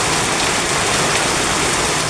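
Heavy afternoon rain pours down in a dense, loud, unbroken roar of drops beating on surfaces close by, with no voices.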